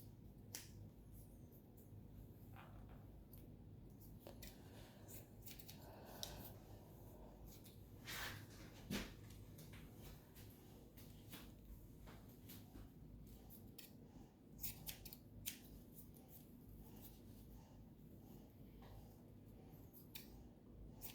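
Hair-cutting shears snip through hair during a home haircut, a few sharp, quiet clicks scattered among faint handling noises and combing, close to the listener.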